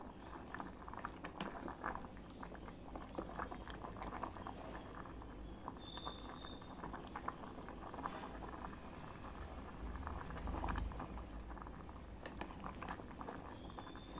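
A curry of raw mango, onion and chana dal bubbles in an electric kettle, a steady close simmering hiss with soft pops and gurgles, no talk.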